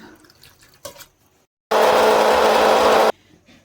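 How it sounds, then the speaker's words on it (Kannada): Water pours steadily into a mixer-grinder jar holding chillies in one loud, rushing stream lasting over a second, preceded by faint kitchen clatter. "ಇವಾಗ ಸ್ವಲ್ಪ ನೀರು ಹಾಕೊಳ್ಳೋಣ"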